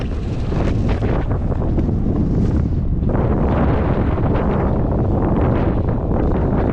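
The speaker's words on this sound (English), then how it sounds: "I am fighting so hard against the wind right now." Strong headwind buffeting a cyclist's microphone on an open road, a loud continuous roar with gusting surges and no voices.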